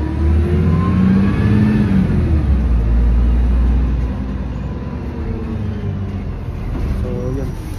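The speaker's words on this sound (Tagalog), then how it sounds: "So ito yung bus." A bus engine revs and rumbles low and steady, loud and close, easing off partway through while the drone continues.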